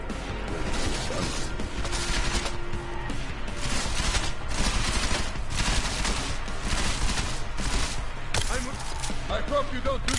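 Gunfire in the video game Deus Ex: Mankind Divided, dense and loud throughout, with rapid shots and crashing impacts layered over music and action noise.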